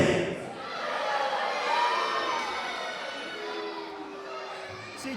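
Wrestling crowd at a British Wrestling show cheering and shouting along with a wrestler, a loud, steady wash of many voices that swells slightly midway and holds throughout.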